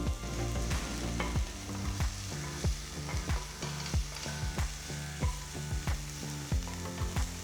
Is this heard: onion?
yes